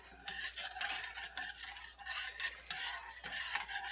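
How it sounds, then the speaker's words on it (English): Garlic salt and basil marinade for mushrooms is stirred in a bowl, with soft repeated swishing and scraping strokes, close but quiet and with no talking. "Stir that up."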